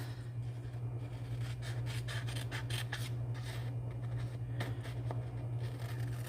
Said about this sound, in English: You'll come through and trim